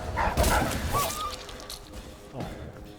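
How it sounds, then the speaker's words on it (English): A dog barks and yelps in a fantasy video game street scene, a cluster of sharp close barks followed by quieter gaps and one more yelp, with faint ambient noise. "Oh, there's another dog."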